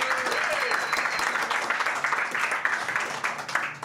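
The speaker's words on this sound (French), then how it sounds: "Vous pouvez l'applaudir aussi, le Hard Rock Café" Applause from an audience at the Hard Rock Café during a live American football podcast event, a dense steady patter of clapping lasting several seconds with some voices mixed in.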